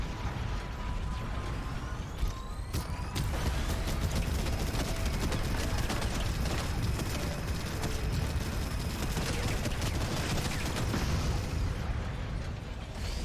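Robocraft vehicle weapons fire continuously in a dense, crackling barrage of rapid shots and mechanical clatter that stays steady and loud throughout, with little speech.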